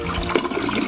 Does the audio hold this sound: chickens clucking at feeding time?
no